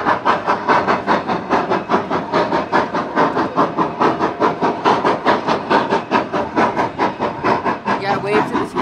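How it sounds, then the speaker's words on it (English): A train rolls past with a steady, rapid rhythmic clatter of wheels over rail joints, loud and continuous throughout. "You gotta wait for the train."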